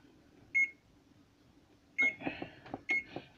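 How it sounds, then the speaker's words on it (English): Kitchen oven control panel beeping as it is set to 475 degrees, with one short beep, then a run of quick button presses and more beeps, faint against a quiet room. "is we're going to set the oven to 475 to get all hot."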